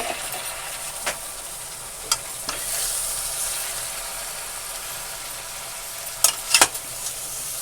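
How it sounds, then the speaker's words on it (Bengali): Radish and prawn chorchori stirring and frying in spices, a steady close sizzle with occasional sharp scrapes and taps of the spatula against the pan, a quick cluster near the end, no voices. "এইবার এই সবজিটা আমি কষাবো"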